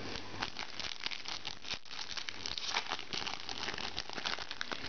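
Pokémon card booster packs from a Glaciazione Plasma set being torn open and handled, a steady, close, loud run of crinkling foil and tearing wrapper noise with no talking.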